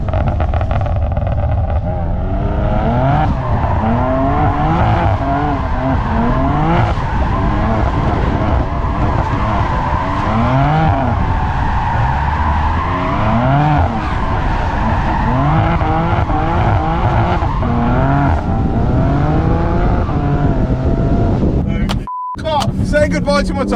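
Stage 2 BMW G80 M3 drifting, its loud engine and tyre squeal running continuously, overlaid by excited talk and shouts from people in the car.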